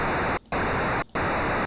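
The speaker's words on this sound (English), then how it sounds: "square wave modulated by white noise. So it has this really random characteristic" A synthesized square wave modulated by white noise gives a steady, hissy static tone with a faint pitch, cut off twice by brief gaps of silence.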